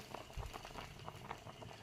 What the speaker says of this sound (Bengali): আর পায়েসটা ফুটছে দেখো